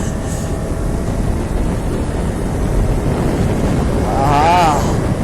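Cool breeze blowing over the hills at Valparai, heard as a steady broadband wind rumble buffeting the microphone throughout, with a brief rising-and-falling warble near the end.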